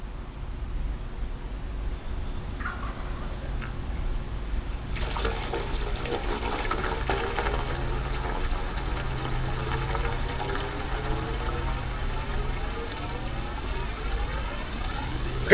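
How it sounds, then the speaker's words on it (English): Water fills a drainage line for a pressure test. A faint trickle gives way to a loud, steady rushing flow through the pipe that continues unbroken to the end, with no talking. "We're just gonna fill it up until the water starts coming out, I guess, and then we'll shut it off."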